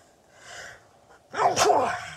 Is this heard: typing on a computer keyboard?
no